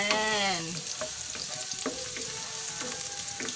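Garlic frying in a pan for ginisang pechay, a bright crackling sizzle with scraping stirs, loudest at the start and then continuing steadily with clicks of a utensil against the pan.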